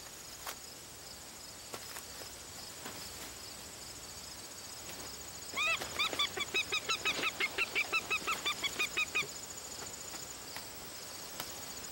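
A wild bird gives a rapid run of harsh, rhythmic cackling calls over steady insect chirring, the burst loud and close for several seconds before fading back to the background hum.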